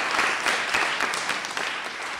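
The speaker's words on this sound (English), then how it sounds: "So a big round of applause for all of you." Audience applause at a bill signing ceremony in Boston, a dense, steady wash of many hands clapping, fairly loud and sustained with no talk over it.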